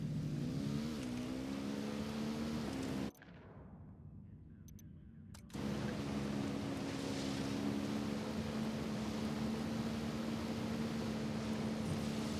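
Motorcycle engine in an action video game, a steady droning hum that rises in pitch at the start, cuts out for a couple of seconds, then returns and holds at an even level.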